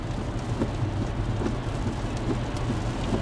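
Dense, constant heavy rain roaring down, with a low rumbling drone underneath, like heavy rain heard from inside a UPS truck on the road in Tennessee.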